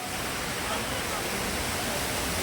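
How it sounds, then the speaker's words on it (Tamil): A small waterfall dropping about eighty feet at Money Falls near Valparai roars with dense, steady broadband rushing water, loud and continuous throughout with no voices. "இது எண்பது அடி உயரத்துலேருந்து விழக்கூடிய ஒரு சின்ன ஃபால்ஸ் தான்"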